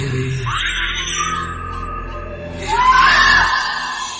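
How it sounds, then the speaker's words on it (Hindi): A woman screams in a Hindi horror audio story, with drawn-out high wailing cries in two bursts, the second louder and rising, over a low background drone. "दीपशिखा के चीखने और चिल्लाने की आवाज से उसकी मां वहां दौड़ी दौड़ी आई"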